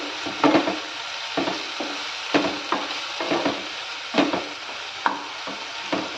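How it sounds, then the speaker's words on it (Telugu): Tomatoes with turmeric stir-fried in a pan for tomato rice, repeated scraping strokes of a spatula over a soft frying sizzle, close and rhythmic with no speech. "ఈ టొమాటోస్ అనేటివి కాస్త మనకి బాగా మెత్తబడాలి. అప్పటిదాకా మనం ఈ విధంగా ఫ్రై చేసుకుంటూనే ఉండాలి."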